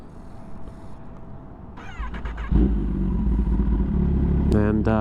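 A 2025 Kawasaki ZX10R with a BT Moto stage 2 tune cranks over and fires up partway through, settling into a loud, steady close-up idle rumble after the starter whirs, with a brief voice near the end.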